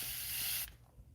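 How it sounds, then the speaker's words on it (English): A spray bottle mists water onto leather in one steady hissing burst of about two-thirds of a second, close and fairly loud, then cuts off to quiet room tone. "We're just going to spray that so it soaks in."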